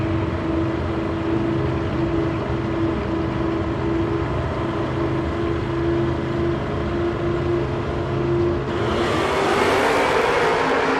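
Drag race between a 1970 Nova and a 1993 Mustang at a strip, steady engine drone with a sustained tone, then a broad louder roar swelling near the end as the cars pass.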